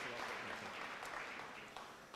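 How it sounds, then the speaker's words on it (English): An audience at a debt review awards ceremony applauding in a steady, moderate wash of clapping that holds evenly throughout. "Please give them all a very big round of applause"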